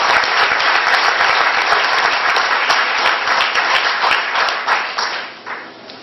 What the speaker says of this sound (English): a nice round of applause there for our second graders